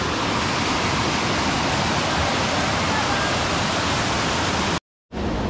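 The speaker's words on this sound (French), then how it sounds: "Une cascade, une petite chute." A small waterfall on a stream in the Ardèche pours with a constant broad rushing roar, close and loud, briefly cutting out near the end before resuming.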